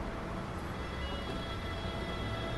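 A train rumbles with a steady, dense low roar and faint rail noise in Train Sim World 2, continuous and fairly loud throughout.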